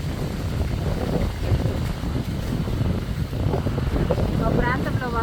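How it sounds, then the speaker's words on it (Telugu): Gusty pre-rain wind sweeps through a papaya garden, buffeting the microphone with a continuous low, rough roar that swells and dips, with a faint warbling tone near the end. "ఇక్కడ వర్షం పడేటట్టుగా గాలి వస్తూ ఉంది"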